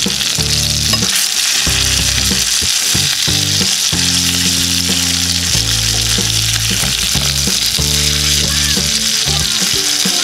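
Fish frying in oil over a medium flame crackles with a loud, dense, continuous sizzle, with scraping and bumping from a spatula as the pieces are turned over; no one speaks.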